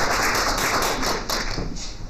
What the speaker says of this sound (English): We all give a big round of applause.